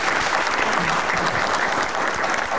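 An audience on a Saturday afternoon entertainment show claps in a dense, continuous round of applause that stays loud and even throughout.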